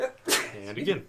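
A single sharp sneeze bursts out close by in a podcast setting, with people talking just before and after it.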